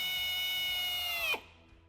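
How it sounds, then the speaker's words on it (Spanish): A power drill whines steadily at high speed, loud and close, then winds down abruptly after about a second and a half, used while fitting a tow hitch wiring kit on a 2019 Toyota Corolla sedan. "Con la ayuda de un taladro,"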